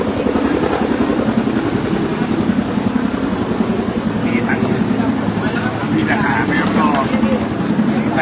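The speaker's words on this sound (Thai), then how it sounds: "ได้ยินเสียงเฮลิคอปเตอร์ไหม" A helicopter flies overhead during a flood rescue, a steady rotor drone over rushing water with someone talking throughout.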